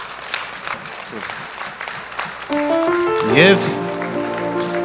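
An audience at an award ceremony bursts into applause that swells partway through, with a speaker's voice heard before the clapping and ringing tones over it.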